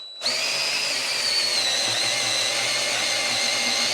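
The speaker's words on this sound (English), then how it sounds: "I can assure you my little DeWalt cordless drill did not like that" Close and loud, a DeWalt cordless drill spins up and holds a continuous straining whir while its mixer paddle stirs a bucket of thick shower waterproofing.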